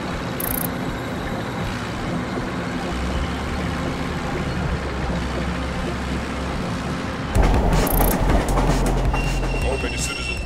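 A stop-motion toy train rumbles past with steady rolling and rhythmic wheel clatter, metallic squeals rising near the end as the noise grows louder.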